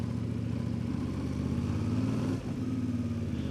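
A CFMoto 450MT motorcycle rolls along in second gear at low speed, its parallel engine humming in a steady, slightly uneven drone with a brief dip near the end.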